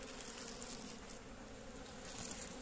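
Honeybees crawling over a hive frame during winter feeding with sugar dough, giving a steady, dense buzzing hum that stays close and constant throughout with no talk.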